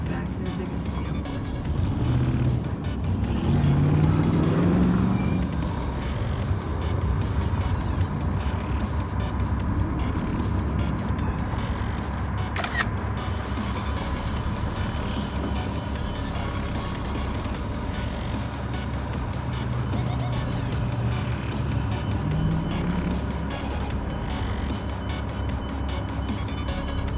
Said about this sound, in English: That's what a double-decker bus ride looks like.